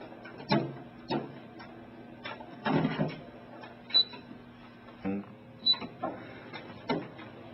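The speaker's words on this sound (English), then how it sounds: "we're going to run the laminator and apply pressure towards the laminating position" Royal Sovereign laminator drawing film through its rollers, heard as faint motor hum under intermittent clicks and mechanical knocks, with a person talking over it.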